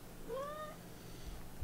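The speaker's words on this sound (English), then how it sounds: "And there's the kitten again." A kitten gives a single clear, rising-and-falling meow, close and fairly soft, over a faint low background hum during an evening live stream of Kerbal Space Program.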